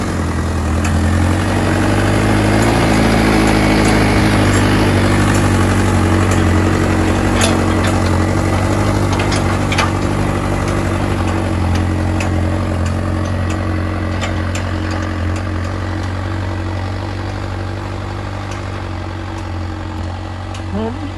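Arjun 605 Novo (60 hp) and Mahindra 585 (50 hp) tractors working a field in four-wheel drive, a loud steady low diesel drone running continuously throughout, slightly easing toward the end, with no talk.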